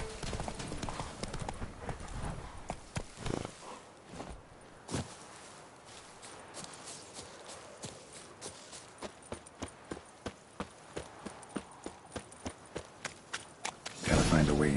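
Roach, a horse in The Witcher 3, gallops and trots in a steady stream of sharp hoof clip-clops, the rhythm shifting as it moves, with a louder burst of activity near the end.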